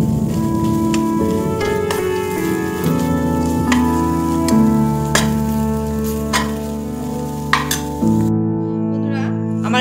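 Fried nuts stirred into a banana flower cutlet mixture in a pan: soft scraping and light clinks of a spatula, heard under prominent steady background music.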